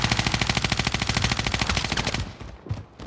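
Rapid automatic gunfire in a Call of Duty match, a dense, loud, steady stream of shots for about two seconds that then cuts off into quieter game noise.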